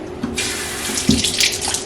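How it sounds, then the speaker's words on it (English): Water runs steadily from a tap while a human hair headband wig is wetted, close and moderately loud, with a few brief splashes and no talk. "add a little water"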